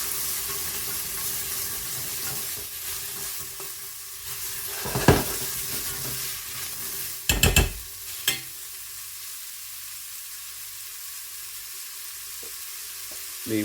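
Chicken pieces for a spicy Korean chicken stew sautéing in a pan, a steady soft sizzle running throughout with a few louder clatters of stirring or utensil knocks near the middle, no talking.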